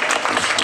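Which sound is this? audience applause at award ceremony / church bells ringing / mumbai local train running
audience applause at award ceremony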